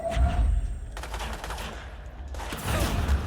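Rapid gunfire from the video game Control, loud bursts of automatic fire in two clusters separated by a quieter stretch, close and punchy with scattered impacts.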